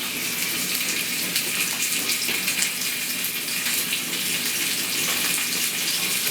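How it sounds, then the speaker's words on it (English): Quail sears in a hot pan with a loud, steady, broadband hiss that holds evenly throughout, close up with no talk. "So now we're going to place our quail into the pan."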